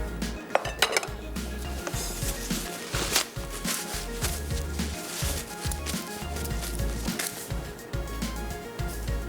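Cherry crunch batter ingredients mixed in a bowl, giving a busy run of close clinks, scrapes and knocks of utensil against bowl, fairly loud and irregular throughout.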